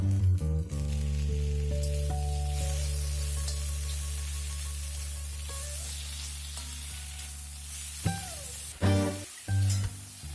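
Onions and tomatoes sauté in a pan with a steady sizzle and occasional stirring scrapes, ending in a few louder knocks; no one speaks.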